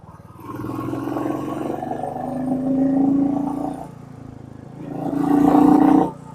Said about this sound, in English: The machine just roars like a lion,